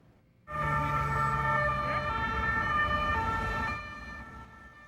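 A loud police car siren blares in suddenly in a shopping district, holding a wavering wail for about three seconds before dropping back to a low traffic rumble.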